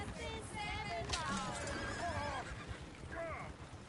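A horse in Red Dead Redemption 2 lets out several shrill, wavering whinnies in quick succession, fairly close, layered over a busy background of game ambience and clattering.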